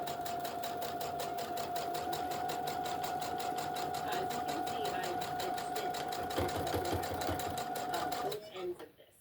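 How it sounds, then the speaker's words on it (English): A sewing machine runs a very tight eighth-inch edge stitch on a fabric period bag, a fast steady mechanical whir with rapid needle ticks, close and continuous for about eight seconds before stopping abruptly. "we're going to do a very tight edge stitch, about 1/8 of an inch"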